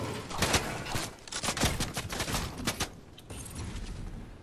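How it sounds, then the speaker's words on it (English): Video game gunfire crackles in several sharp, rapid bursts and single shots, loud and close at first, then thinning to a few fainter pops. "People shooting from the southeast at me."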